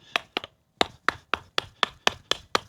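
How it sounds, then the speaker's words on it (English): Wood being chopped with a Worktuffgear Forrester bushcraft knife: ten sharp, close knocks landing at a steady, brisk rhythm, each a crisp crack with a short woody ring, alone without talk. "you can come in and do some chopping with it."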